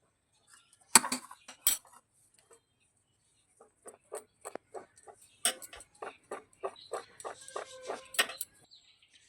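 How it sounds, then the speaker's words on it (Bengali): Sweet corn kernels rattle and patter against the sides of a bowl as it is shaken to coat them in cornflour, in a series of quick clinking bursts with short pauses between. "এবার আমরা বাটিটা একটু ঝাঁকিয়ে ঝাঁকিয়ে কর্নফ্লাওয়ারটা খুব ভালোভাবে সুইটকর্নে মাখিয়ে নেব"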